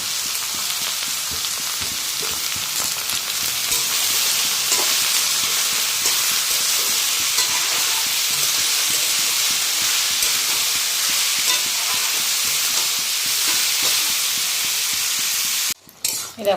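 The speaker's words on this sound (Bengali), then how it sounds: "এখানে ডালটা সম্বাদ দিয়ে দিয়েছি" Dal being tempered in hot oil sizzles and hisses steadily and loudly in a home kitchen, a continuous frying crackle that runs almost the entire time before cutting off briefly near the end.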